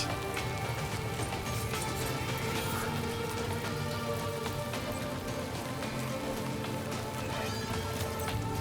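Timefall rain in the video game Death Stranding 2, a dense, steady patter of rain on surfaces that stays even and constant throughout, with no talk.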